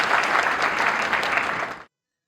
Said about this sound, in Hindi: एक बार पुनः आप सभी के सम्मान में जोरदार तालियों से स्वागत करेंगे